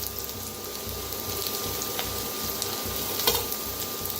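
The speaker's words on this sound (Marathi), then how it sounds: "छान असं भाजून घेऊया कांदा आणि कढीपत्ता, मिरची, लसूण।" Onion, curry leaves, green chilli and garlic fry in a pan with a steady, close sizzle and crackle that holds evenly throughout, with one brief sharper spatter near the end.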